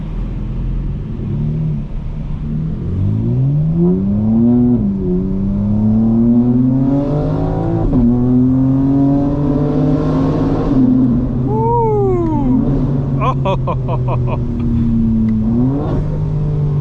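A 2025 BMW M4 Competition engine pulls hard while driving, its pitch climbing through repeated rising sweeps with gear changes between them, a loud, steady cabin drone with no talking.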